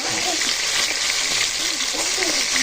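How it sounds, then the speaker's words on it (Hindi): Rohu fish pieces frying in hot oil give a steady, dense sizzle that runs unbroken from start to finish, with some faint speech-like sounds mixed into the crackle. "देखिए किस तरह मेरा तेल हो रहा है, तेल में मछली किस तरह हो रहा है।"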